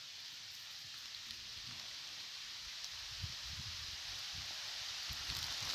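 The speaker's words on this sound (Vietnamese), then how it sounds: "Ui, mưa to lắm các bác ơi." Heavy rain falls outdoors on a hillside, a constant soft hiss of drops that stays faint and even throughout, with a few low rustles and thumps underneath.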